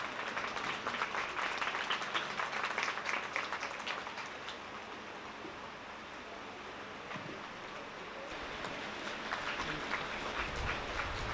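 A children's literature festival audience claps to welcome guests, sustained crowd applause that dips slightly midway and swells again, with no speech over it.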